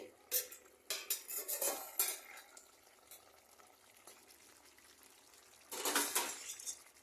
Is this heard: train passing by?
no